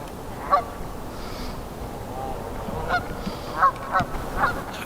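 Scattered honks from several geese at a moderate distance beside a lake in winter, a handful of calls spread out over steady outdoor background noise, no talking.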